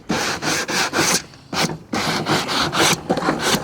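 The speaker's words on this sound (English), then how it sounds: "we're just sanding this down with a little sanding block" A small sanding block rubs back and forth over wood for a suitcase shelf, making loud, close, rhythmic rasping strokes about every half second with a brief pause midway.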